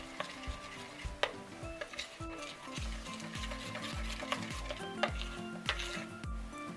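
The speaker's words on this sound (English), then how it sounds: "You're going to make sure to mix all of it in because the glue kind of stays at the bottom" A thick slime mixture of glue and lotion being stirred in a bowl, giving repeated wet, sticky scraping strokes at a steady rhythm with soft utensil clinks, close and alone with no talk.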